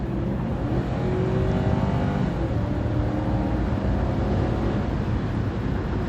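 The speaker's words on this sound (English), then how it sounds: "I'm going to get into the throttle again here" A 2004 Lexus LS 430 under full throttle gives a steady, loud engine roar with a rising tone as it accelerates, and no other sound breaks in.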